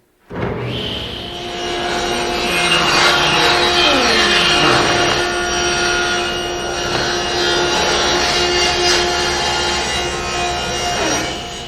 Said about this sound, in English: I'll be ripping my strips out of 3/4 inch thick cherry